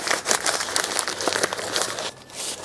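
Newspaper or stuffing paper crinkling as it is wrapped around the soil-filled base of a tomato plant for a vertical garden, close, busy rustles and crumples in quick irregular bursts.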